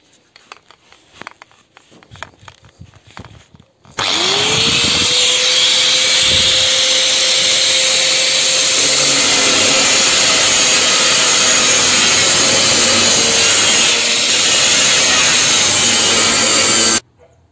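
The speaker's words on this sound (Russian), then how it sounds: "пилим ее на две части" A saw cuts through a container to split it into two halves, a loud continuous rasping that runs steadily for about thirteen seconds after a short quiet lead-in, with a sustained whining tone under the cutting.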